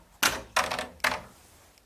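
Three heavy clacking bursts from keys on a mechanical keyboard in a control room, evenly spaced, close and fairly quiet, with faint room hum between them.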